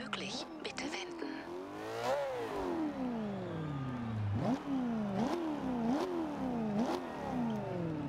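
A car revs repeatedly in the Forza Horizon 2 racing game, a loud engine note rising and dropping through several gear shifts, with a voice speaking over parts of it.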